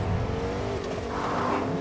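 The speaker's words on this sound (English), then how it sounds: "I'm just gonna get in the truck." A truck in Fortnite drives along with a continuous engine drone and rolling tire noise, steady and close, holding the same level throughout with no speech.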